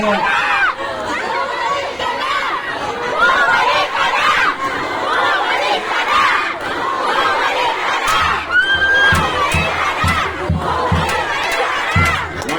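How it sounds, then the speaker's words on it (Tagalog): A large, noisy crowd at a campaign rally's closing meeting de avance, packed behind a locked gate, shouts and chatters continuously at close range, with scattered yells and cheers rising over a steady roar. "Masyadong nakasaba, may sumigaw."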